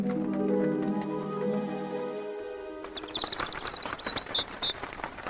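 Birds chirping and calling in a children's story scene as the flock departs, bright tweets arriving after a musical passage fades, fairly close and without talk.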